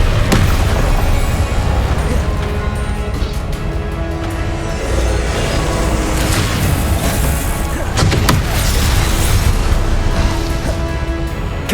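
Fire spell blasts in the video game Hogwarts Legacy, a dense, loud run of booming bursts and crackling impacts over constant battle noise, with no pauses across the stretch.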